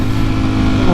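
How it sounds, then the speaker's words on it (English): Motorcycle engine running steadily while riding near a beach, a loud continuous low rumble with a broadband wind roar that fills the whole second. "riding on a motorcycle"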